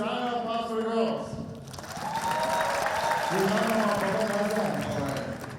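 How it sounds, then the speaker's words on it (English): Applause from the audience at a Persian student association show at a university, rising after a speaker's voice and sustaining as a dense wash of clapping with more talk over it. "give us a round of applause for the girls"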